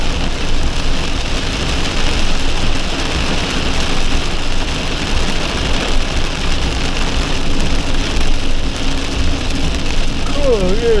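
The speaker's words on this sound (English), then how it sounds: "Raining hard." Heavy rain pours down at the Hattusha ruins in Turkey in a dense, steady hiss, with a faint engine hum underneath throughout.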